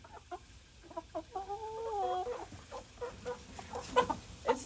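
Backyard flock of hens and a rooster, clucking close by in short irregular bursts with one drawn-out squawk, the calls fairly quiet.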